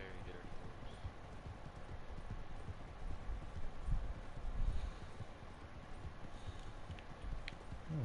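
Horse hooves clopping at a walk in Red Dead Redemption 2, a soft irregular patter of steps on dirt, faint and under people talking.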